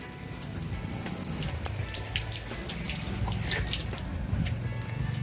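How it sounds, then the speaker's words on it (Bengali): Dishes being washed at a kitchen sink, with tap water running steadily and scattered clinks and drips close by, alone without talk. "আর এদিকে আমি বাসন টাসন ধুয়ে নেব।"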